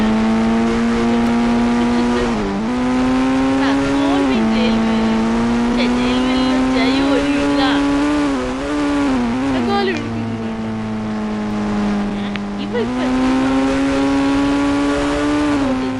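A Tata Sierra races in a video game, its engine whining loud and steady with sweeping pitch shifts as it revs, shifts gears and accelerates, with a brief tire squeal, all close and continuous.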